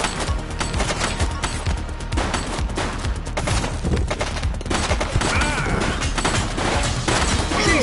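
Gunfire in the police game The Precinct: dense, overlapping volleys of shots and rattling bursts running throughout, loud and chaotic, with faint voices mixed in.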